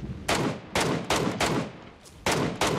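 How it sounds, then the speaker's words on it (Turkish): Enemy gunfire in the battle royale game PUBG Mobile, six sharp, loud shots in an irregular rhythm over under three seconds, each cracking out with a brief decaying tail, no talk over it. "Abi sağdan bir yerden biri sıkıyor"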